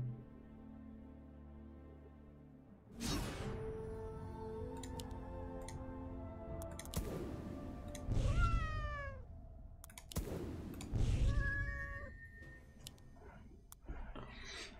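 Several synthetic, electronic-sounding cat meows from the game Legion TD 2 ring out over a background of game music and chiming tones.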